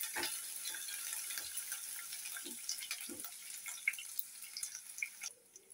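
Grated ginger added to garlic in a pan, frying with a steady, soft sizzle broken by scattered drips and light pops, fairly faint, ending in a quieter stretch.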